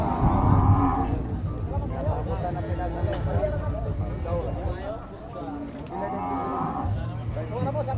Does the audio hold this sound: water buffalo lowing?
yes